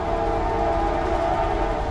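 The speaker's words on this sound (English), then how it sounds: "Third train of the day. We got Norfolk Southern." A steady, loud rumbling roar of a passing Norfolk Southern coal freight train at 48 mph, with sustained tonal hum and continuous rolling noise throughout, no voices.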